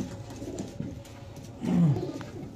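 Pigeons coo softly at a bird-keeping setting in Gujranwala, with a low throaty coo swelling near the end over a steady murmur of background noise.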